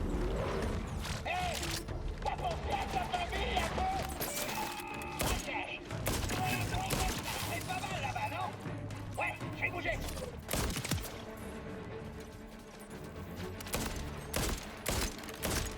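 Sniper fire in Borderlands 4 crackles through dense game action, with repeated sharp shots and thumps over a busy layered soundtrack and a voice talking throughout.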